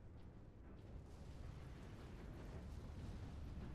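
A defense cannon fires on the distant horizon in Warhammer 40,000: Space Marine. A faint, deep rumble rolls on continuously and rises a little toward the end, with no sharp blast at the start.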